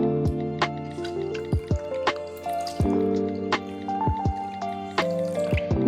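Water is poured into a pan holding sugar while making chow chow bath, a steady liquid trickle with small drips and splashes, close and fairly loud, with no talking.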